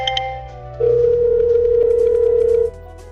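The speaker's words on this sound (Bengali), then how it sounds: "অভি ফোন করেছে।" A steady electronic phone tone sounds for about two seconds, loud and close, then cuts off.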